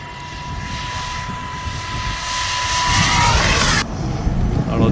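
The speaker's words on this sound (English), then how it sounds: "I'll do a slow flyby." A 3D-printed RC Cessna DragonFly model plane makes a slow flyby, its small motor whine rising steadily and peaking close before abruptly dropping away, over outdoor background noise.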